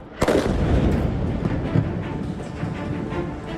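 A loud, sharp blast as an apartment building in Gaza City is bombed, followed by a long rumbling roar and debris-like crackle that slowly fades.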